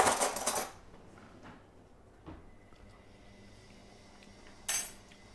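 A metal spoon rattles and clinks loudly at first, then a soft clatter and a quiet knock follow, ending in another brief bright jingle of cutlery, no speech.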